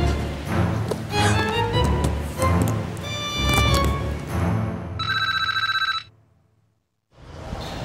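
A cellphone rings with a bright, repeated electronic bell pattern that cuts in over busy background music and effects, then stops into near silence before other sound returns.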